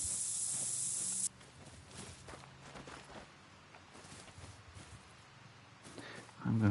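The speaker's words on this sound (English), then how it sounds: "I'm going to spray myself real quick." A scent eliminator spray hisses in the hunting game The Hunter: Call of the Wild, a steady loud spray for about a second, then quieter footsteps and rustling follow.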